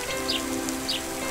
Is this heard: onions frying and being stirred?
no